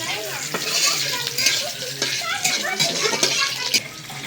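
Plenty of dried red chillies frying in a pan to temper leafy greens, giving a steady bright sizzle with occasional stirring clinks while a person talks over it.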